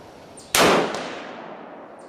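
A single sharp shot from a Ruger Gunsite Scout rifle firing .308 Tula 150 grain ammunition at an outdoor range, loud and close, with a long decaying echo afterward.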